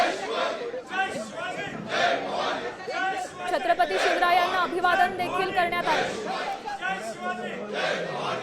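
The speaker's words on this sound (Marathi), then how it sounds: "विधान भवनाच्या पायऱ्यांवर सत्ताधाऱ्यांचा हा जल्लोष होतो" Ruling-party members celebrate on the legislature steps holding Shivaji placards, their cheering and chanting a busy, rhythmic crowd roar mixed with a clear spoken voice over the top.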